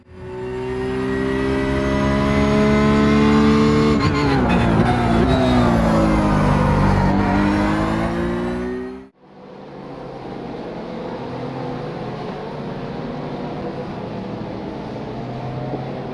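A BMW in Golf livery races around a track in a racing game, its engine note climbing and shifting loudly for about nine seconds before cutting off abruptly into a quieter, rushing hum.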